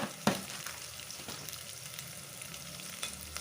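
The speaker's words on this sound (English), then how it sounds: "I'll put in about half a teaspoon of rock salt to help the onions to fry up faster" Onions frying in a pan with half a teaspoon of rock salt give a steady close sizzle and hiss, with one sharp clatter near the start and a few lighter knocks later.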